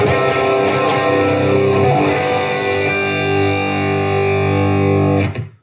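Electric guitar through a Fractal Axe-FX III Brit 800 amp model with the master volume at 10 rings out in loud, thick distorted chords with a few picked accents, then cuts off sharply at the end.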